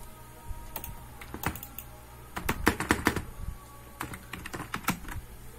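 Computer keyboard keys clatter in quick bursts while CAD drafting commands are entered, with short pauses between groups of keystrokes, close and moderately loud with no talking.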